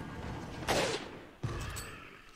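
Rifle shots in Resident Evil 4, two sharp, fairly faint cracks less than a second apart, each trailing off in a short echoing decay.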